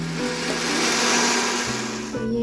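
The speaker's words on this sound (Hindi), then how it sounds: "ग्राइंडर में इसको ग्राइंड करेगा लहसुन और अदरक को" Electric kitchen grinder whirring as it grinds garlic and ginger, a steady loud motor drone with pitch shifts as the load changes, running alone throughout.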